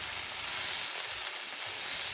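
Sticky rice fries in a hot pan while being stirred and flipped, giving a close, steady, dense sizzle with no pauses.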